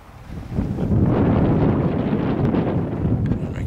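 Wind blowing outdoors, a strong broadband roar that buffets the microphone and rises after a half second, then stays loud and gusty throughout.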